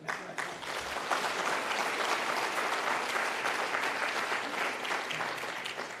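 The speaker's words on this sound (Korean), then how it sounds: "박수 한번 쳐주세요" An audience at a political talk on constitutional reform breaks into applause, dense sustained clapping from a large crowd that rises quickly and holds steady for several seconds, fairly close and with no speech over it.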